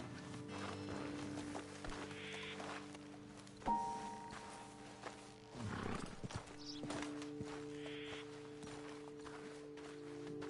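Horses in Red Dead Redemption 2 walk with soft, irregular hoof clops and a few thuds over a steady game ambience, with a brief whinny-like sound in the middle.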